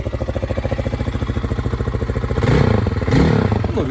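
A Spark SP300 T6 motorcycle engine idles with a close, even pulsing thump, then gets two sharp revs near the end before settling back.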